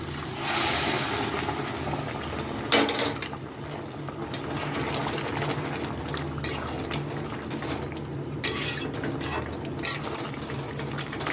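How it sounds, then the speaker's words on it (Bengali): Hot water poured into mutton kosha in a pan, a sustained loud hissing gush with occasional metallic clatters of the pan and utensils. "এখানে আমি গরম জল দিয়ে দিচ্ছি"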